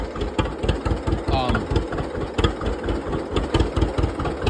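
A John Deere slant-dash tractor engine idles with a regular thumping putter, loud and close, while someone talks over it.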